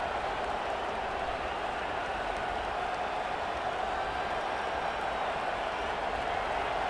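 Steady stadium crowd roar from College Football 25, a Louisville vs. Texas game on 3rd down, a dense, even wash of cheering and applause that runs unbroken, with no talk over it.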